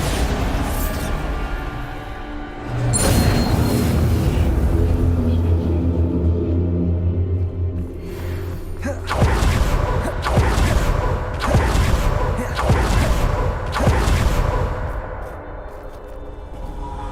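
Repeated Bombarda spell blasts in Hogwarts Legacy: heavy booming explosions with rumbling tails, a sustained roar early on, then several sharp crashing bursts in quick succession, loud and close.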